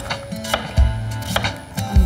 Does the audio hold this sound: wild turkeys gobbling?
no